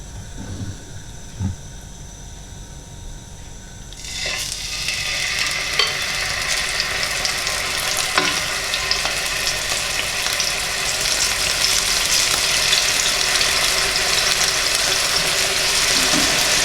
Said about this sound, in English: just use a good quality vegetable oil when you're frying off.